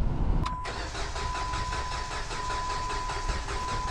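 A Jeep Compass being cranked at the ignition, a sharp click followed by a steady mid-pitched engine drone that holds evenly throughout, close and fairly loud with no talk over it.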